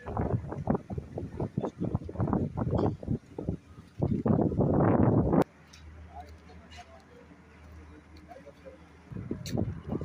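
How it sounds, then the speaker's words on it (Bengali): Roadside morning breeze buffets the microphone in loud gusty bursts, dropping to a quieter lull before gusting again. "অনেক সুন্দর বাতাস আছে।"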